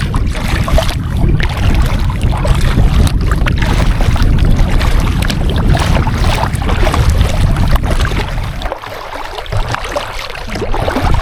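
Strong wind gusts across a lake, roaring loudly and buffeting close around a kayak with some water movement underneath, easing slightly toward the end; no one speaks.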